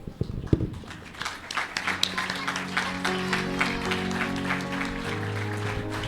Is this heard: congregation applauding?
yes